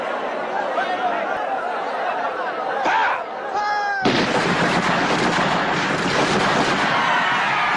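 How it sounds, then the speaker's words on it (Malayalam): Gunfire during a confrontation with soldiers erupts halfway through as a dense, loud, sustained volley. Murmuring voices and a few sharp sounds come before it. "പെട്ടെന്നാണ് വെടിയൊച്ച കേട്ടത്."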